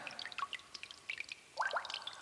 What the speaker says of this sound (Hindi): यहाँ तो छत से पानी टपक रहा है।